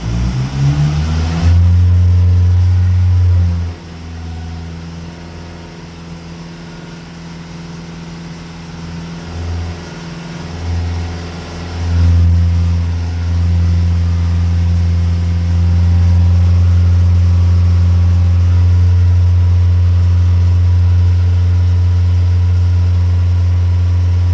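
A VW Passat bi-turbo diesel with a P2002 particulate filter fault idles steadily, then is revved in several short bursts, the engine drone loud and close with no talking.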